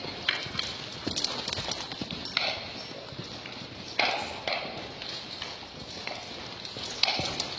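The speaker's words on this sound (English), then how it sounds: "I'm going to ask her to lope now." Horse loping in a round pen, hooves striking dirt in a steady rolling clip-clop rhythm of three-beat footfalls, moderately close and clear with no talking over it.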